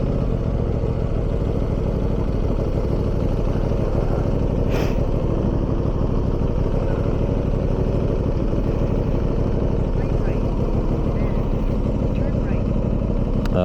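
A 2026 Aprilia RS660 Factory motorcycle is ridden on the road, its engine producing a loud, continuous low drone mixed with steady wind rush, heard close from the rider's position.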